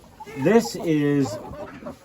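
Dark Brahma hens in a freshly bedded chicken coop give a pair of drawn-out, throaty clucking calls, heard up close and fairly loud.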